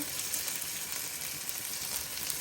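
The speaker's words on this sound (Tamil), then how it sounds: "இது வதங்கி கொண்டிருக்க இதுக்குள்ளே உப்பு சேர்க்குறேன்" Vegetables sauté in a hot pan with a steady, dense sizzle and crackle throughout, close and fairly loud, with no one speaking.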